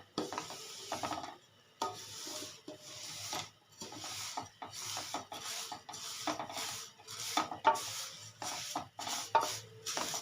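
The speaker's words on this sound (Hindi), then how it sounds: "घुमाते रहें, इनको चलाते रहें चमचा।" A spoon stirs vermicelli roasting in a pan, giving repeated close scraping and rubbing strokes in an irregular rhythm with brief pauses between them.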